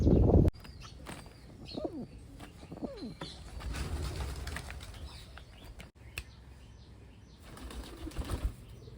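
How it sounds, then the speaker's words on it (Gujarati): Newly released Siraji pigeons burst into a loud flurry of wing flaps at a rooftop training loft, followed by softer rustling, scattered flaps and low cooing. "હવે તો કબૂતર સામે ખોલેલું છે આપણે"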